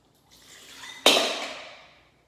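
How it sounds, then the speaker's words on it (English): Chilled water tossed out of a cocktail coupe glass into a bowl, a soft swishing rise followed by one sharp splash that trails off over about a second, alone and fairly close. "I'm going to throw out the chilled water"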